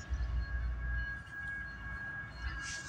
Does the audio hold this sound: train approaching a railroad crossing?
yes